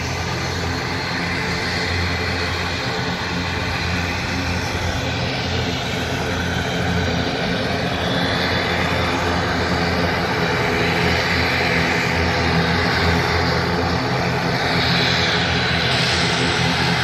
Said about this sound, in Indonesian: Kita lihat proses pushback untuk persiapan take off dari pesawat ATR 72-600 dari maskapai Wings Air.